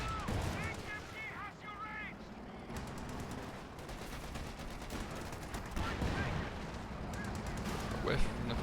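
Sherman tank firing HE rounds in a strategy video game, repeated booming cannon shots amid gunfire and battle noise, with commentators talking throughout.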